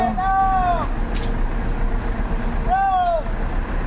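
A Sembodo bus manoeuvres into position to reverse at the Kampung Rambutan bus terminal. Two drawn-out squealing air-brake tones rise over a steady, close engine rumble and background terminal noise.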